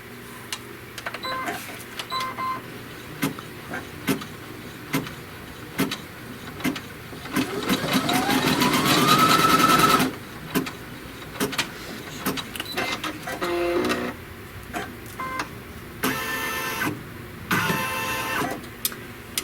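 A sewing machine stitches a seam, its motor ramping up into a fast, rising whir for a few seconds amid scattered clicks and short mechanical bursts, close by and moderately loud.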